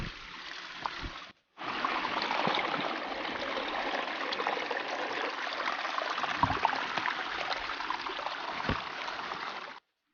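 A mountain stream on the Chembra Peak trek in Wayanad flows with a steady, close rushing trickle. The sound cuts out briefly near the start, then runs on evenly.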